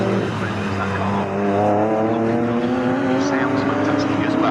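A race car, likely a British sports car such as a Lotus or Aston Martin, runs loud and sustained on the Snetterton circuit, its engine note steady and strong beneath continuous commentary.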